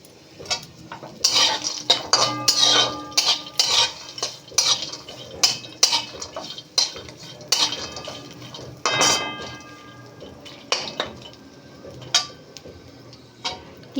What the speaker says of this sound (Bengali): কারি পাতা কাঁচা লঙ্কা একটু ভাজা ভাজা হয়ে গেছে, এবারে আমি এর মধ্যে কিশমিশগুলো দিয়ে দেব।